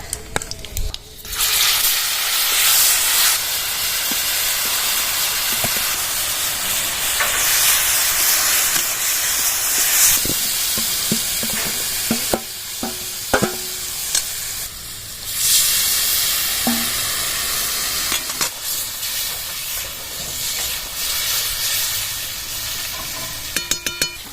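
Tamarind paste hits hot mustard oil with dried chilli and five-spice seeds in a wok, bursting into loud, hissing sizzle that surges and settles, with a few stirring clinks.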